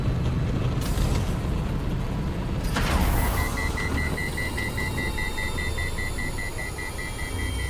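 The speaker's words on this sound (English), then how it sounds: "I love that beeping and wind down sound." Beeping and a winding-down machine hum from the video game Dune: Awakening, a steady electronic beep tone repeating over a low rumbling drone, following a sharp burst, fairly loud and continuous.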